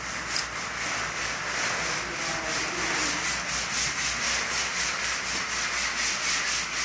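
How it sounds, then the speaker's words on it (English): Steady, close hand sanding scrapes across the base coat of a 1940 Mercury convertible in a paint shop, a continuous gritty rubbing with a faint back-and-forth pulse and no voices. "Undergoing a light coat sanding."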